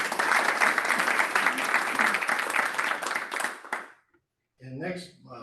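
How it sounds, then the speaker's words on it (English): Applause from a gathered audience honoring a departing colleague named Rich, dense and steady for about four seconds before cutting off abruptly, followed by a short burst of speech. "Applause for Rich."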